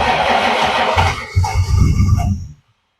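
A 1962 Ford Falcon gasser engine cranks and catches, rumbling loudly for a moment with a rough low roar before cutting off abruptly into silence.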